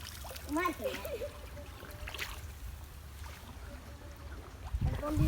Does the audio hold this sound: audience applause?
no